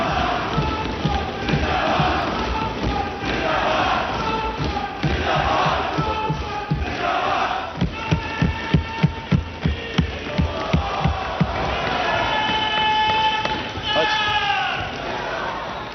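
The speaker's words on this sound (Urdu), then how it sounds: "ایوان میں نعرہ تکبیر اور عمران خان زندہ باد کے نعرے لگ رہے تھے" A large crowd in a legislative assembly chants 'Naara-e-Takbeer' and 'Imran Khan Zindabad' loudly in rhythmic bursts. Sharp claps or thumps punctuate it in the middle, and the voices rise into sustained shouting at the end.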